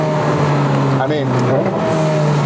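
McLaren 720 GTR race car on a road test, engine revving loud and close as it accelerates, with pitch climbing and dropping across shifts and a steady drone underneath.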